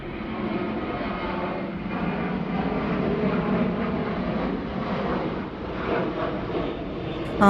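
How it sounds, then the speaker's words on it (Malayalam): An airplane takes off from the nearby airport at Faro, Portugal, heard as a steady, broad jet roar that holds at a moderate distance for several seconds, with no voices over it. "അടുത്ത് തന്നെ എയർപോർട്ടിലുണ്ട് ഇടയ്ക്കിടയ്ക്കുള്ള ഫ്ലൈറ്റ് ടേക്ക് ഓഫ് ഒക്കെ നല്ലൊരു കാഴ്ചയായിരുന്നു"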